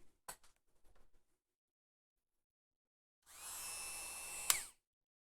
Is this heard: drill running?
yes